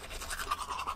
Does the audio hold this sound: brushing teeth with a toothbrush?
yes